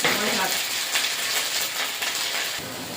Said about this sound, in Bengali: মশলাটা কষে নিয়েছি